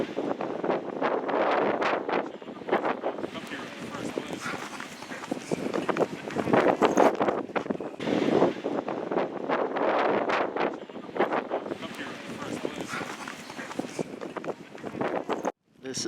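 Strong wind buffets the microphone out on the Columbia Icefield glacier, a constant rough roar with gusty surges throughout, while people talk underneath it.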